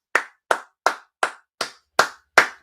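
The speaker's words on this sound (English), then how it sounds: "Drawing applause from Kivio" Seven single hand claps sound during a live Arsenal versus Newcastle football watch-along, sharp and evenly spaced about every third of a second, close and isolated with no talk.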